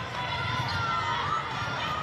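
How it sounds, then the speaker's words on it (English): Large crowd at a netball match, Sapphire Series game between USQ Jets and Carina Tigers, roaring and cheering in a steady, dense wall of noise with shouts and whistles mixed in, close and loud throughout. "The noise fever pitch, quite a big crowd in."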